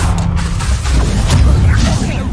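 A loud blasting-spell explosion in Hogwarts Legacy, a dense booming roar that fills the whole moment with steady rumbling energy, under busy game action.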